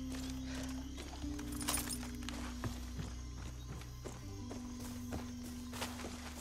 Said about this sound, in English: Is there a horse nearby? Yes, there's a horse nearby, I think.